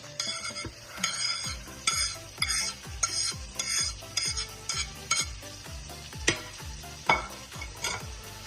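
Green onion, capsicum and carrots stir-fry for vegetable fried rice: a steady sizzle under rhythmic, brisk scrapes and clinks of a spatula against the pan, close and fairly loud throughout.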